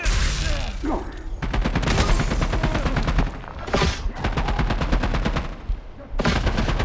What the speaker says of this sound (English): Firing on multiple targets!